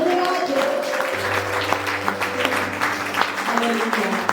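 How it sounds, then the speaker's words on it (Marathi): Church congregation clapping loudly in praise during a Marathi worship service, a dense steady wash of applause running throughout with a low sustained tone and some voices beneath. "जोरदार टाळ्या वाजवून त्या जिवंत बापाला धन्यवाद"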